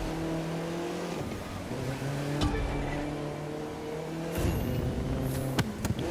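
Audi RS3 Sportback in The Crew 2 video game driving twitchily and losing traction, its engine droning with shifting revs, tire noise and sharp transient knocks, loud and steady throughout with no talk.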